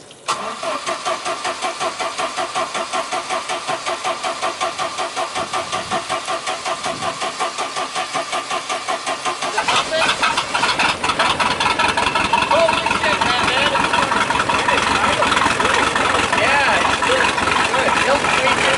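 An aircraft propeller engine cranks and catches, then settles into a loud steady idle with a rough rhythmic beat, and people talk over it.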